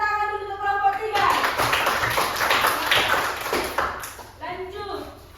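Classroom clapping for a student presentation group, a burst of many hands clapping after a brief voice, fading as a new voice begins to speak near the end.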